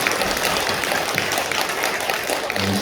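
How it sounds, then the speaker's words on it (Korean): A church congregation applauds after elders are ordained, dense steady clapping from many hands filling the room, sustained at even loudness throughout. "우리 하나님께 영광의 박수 감사를 드리겠습니다."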